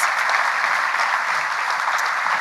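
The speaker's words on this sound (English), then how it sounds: "Can we give everybody a round of applause" Steady applause from a school awards evening audience, dense clapping that holds evenly throughout without pause.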